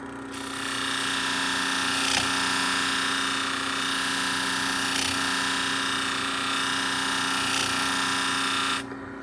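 Salon shears being sharpened on a powered sharpening machine, a steady close grinding whine with faint scraping running evenly for about nine seconds before stopping.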